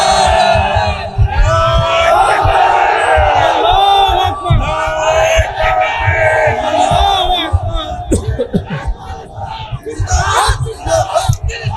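A large crowd at an Islamic religious sermon gathering in Bangladesh roars "Allahu Akbar" back in unison after a Takbir call, a loud sustained collective shout that swells and fades in waves.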